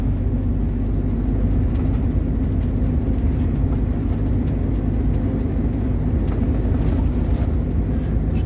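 A truck engine drones steadily as it pulls and accelerates while shifting from 11th to 12th gear, a loud, continuous low rumble heard from inside the cab, with no talking.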